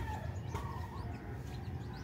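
A pet chicken clucks a few times at a moderate distance over a steady low rumble of background noise.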